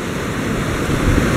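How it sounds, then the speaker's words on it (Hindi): Sea waves at Kanyakumari make a loud, continuous wash of surf with a steady rush and no breaks or talking. "ये देखो पानी की आवाज़ आप सुन सकते हो कितनी अच्छी लग रही है"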